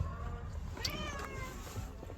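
A cat meows clearly up close, a drawn-out rising and falling cry followed by a shorter second mew, with faint room noise around it.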